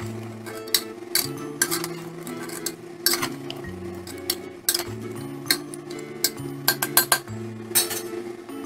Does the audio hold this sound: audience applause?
no